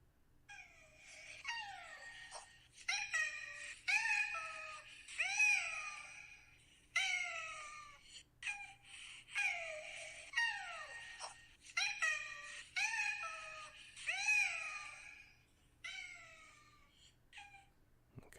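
A cat meows and wails repeatedly close up, long drawn-out cries in a steady series with brief gaps, alone and fairly loud.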